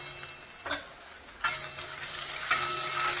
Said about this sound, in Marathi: कांदा लालसर परतला की लगेच आपण त्याच्यामध्ये अद्रक लसूण पेस्ट टाकूया।